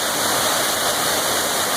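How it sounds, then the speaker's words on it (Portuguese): A waterfall about 20 meters high roars in a steady, dense broadband rush with no breaks, loud and close, with no voices over it. "Olha que cachoeira maravilhosa."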